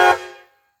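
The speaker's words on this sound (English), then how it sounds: "Train horns." The train horn on a 2005 Ford Ranger gives a single loud, brassy blast lasting about half a second, then cuts off and fades quickly.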